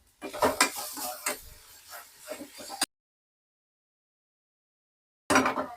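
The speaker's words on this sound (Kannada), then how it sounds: "ಟೊಮೆಟೊ ಹಾಕೊಂಡಿದ್ದೀನಿ, ಮಿಕ್ಸ್ ಮಾಡ್ತೀನಿ." Tomatoes stirred in a frying pan on the stove, a close, steady scraping with sizzling and utensil clinks against the pan, then a sudden stretch of total silence before the stirring returns briefly.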